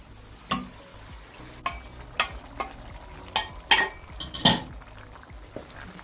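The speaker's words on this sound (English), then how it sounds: "Just give it a mix." Masala for lauki chana dal sizzles in a pan while a spoon stirs it, scraping and clinking against the metal in irregular strokes over a soft, steady frying hiss.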